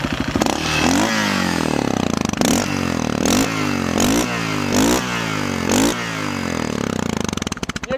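A Yamaha TTR 600 motorcycle engine that sat unused for a long time is started and run, with its loud, close single-cylinder chug rising in several sharp blips and revs, then settling into a rough, pulsing idle.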